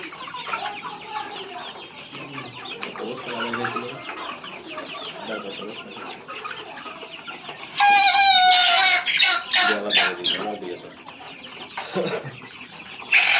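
Broiler chickens on a poultry farm cluck and chatter continuously as a dense flock, with a louder burst of squawking and crowing calls partway through, close and lively, no talk.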